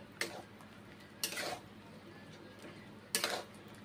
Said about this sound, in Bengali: সেই জন্য খুন্তি করে কষে কষে রান্না করি